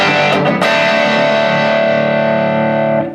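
Heavy distorted electric guitar chords played through a Bogner Ecstasy Blue overdrive pedal in its high-gain blue mode, a loud sustained strum ringing out for about three seconds with no talking.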